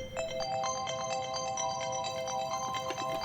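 A mobile phone ringtone plays a steady, repeating electronic melody, moderately loud and continuous for a few seconds, heard alone with no voices.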